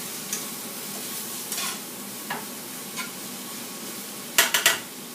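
Bacon for chicken soup cooks in a pan with a soft, steady sizzle, while a utensil scrapes and stirs in a few scattered strokes and a final quick cluster of clanks.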